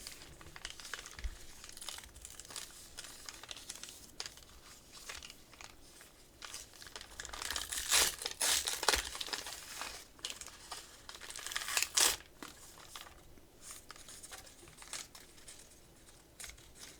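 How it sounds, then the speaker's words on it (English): Foil sports card packs are torn open and crinkled up close, with bursts of ripping and crackling plastic that swell louder in the middle, no talking. "it's just really fun to tear into these packs"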